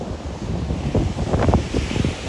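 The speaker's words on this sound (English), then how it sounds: "So we made it to the Unawatuna beach." Surf rolling onto Unawatuna beach in Sri Lanka, with a continuous wash of breaking waves and gusts of wind buffeting the microphone, the swells building and fading over a couple of seconds.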